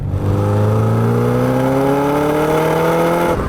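A 1988 Porsche 944 Turbo S, an old-school turbo, accelerates hard, its loud engine note climbing smoothly and steadily in pitch for a few seconds before cutting off.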